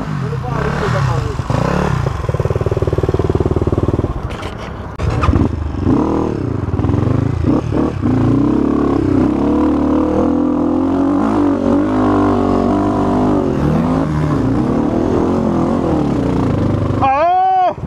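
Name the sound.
Honda CRF 250F dirt bike engine on a trail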